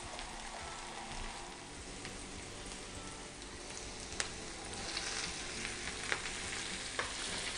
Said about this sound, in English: And then I add the stems, which are thicker, so they take a little bit longer to cook.